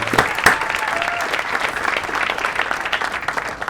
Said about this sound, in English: Show me the applause break.